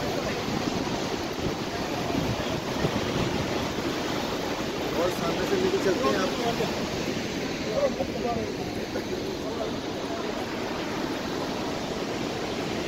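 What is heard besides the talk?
Niagara Falls waterfall, falling water and rising spray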